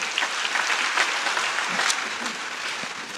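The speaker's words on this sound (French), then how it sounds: "Vous pouvez vous applaudir très très fort." A church congregation at a Sunday Mass claps loudly and continuously together, a dense burst of applause filling the room for several seconds with no speech over it.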